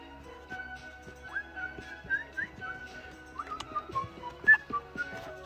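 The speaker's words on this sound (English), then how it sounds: "I shouldn't whistle into the camera" A person whistles a catchy, meandering tune alone indoors, soft and breathy, with a few brighter sharp notes and some light handling clicks beneath.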